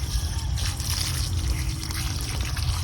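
Water pours steadily onto the soil around a newly planted snow jujube tree, a constant splashing trickle at close range with no voices.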